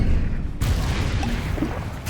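Explosive Confringo spell cast in the Hogwarts Legacy video game, a loud booming blast with a sharp new burst partway through and dense rumbling impact noise throughout, with no talk.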